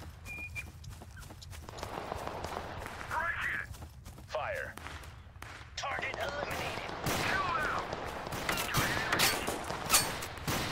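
Gunfire from the Total Conflict: Resistance video game rattles in scattered bursts and single cracks through a battle near a train, with a voice speaking between the shots.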